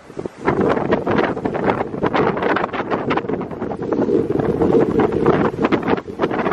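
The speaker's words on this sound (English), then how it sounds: "Well, it's so windy up here." Strong, cold mountain wind buffets loudly and continuously at a high-country peak in rain, roaring and gusting with heavy rumbling bursts throughout.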